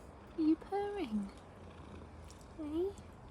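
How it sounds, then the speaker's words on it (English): A neighbour's cat purrs softly and steadily, close by and quiet, with a few short high squeaky chirps and murmured talk over it. "Are you purring?"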